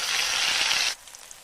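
Tomatoes tipped into hot oil with curry leaves and crushed garlic give a loud, steady, close sizzle for about a second, then it suddenly drops to a faint crackle.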